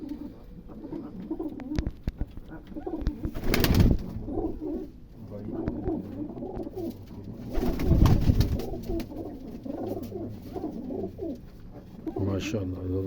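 Pigeons cooing close by in repeated soft, throaty rolling calls, with a few louder bursts of fluttering or shuffling noise among them and a voice now and then in the background.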